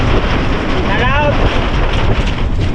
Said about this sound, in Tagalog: May alon sa ilog